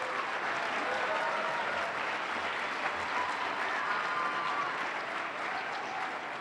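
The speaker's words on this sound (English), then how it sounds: "Let's give them a round of applause." An award night audience applauds in a steady, dense wash of clapping that holds at a constant level throughout, with a faint murmur of voices underneath.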